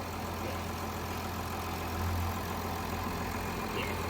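A 2021 Range Rover HSE D300 with its 3-litre Ingenium diesel idles steadily, a low even rumble that swells briefly partway through, with no talking.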